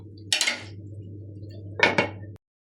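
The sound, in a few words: lid being placed on a pot of beef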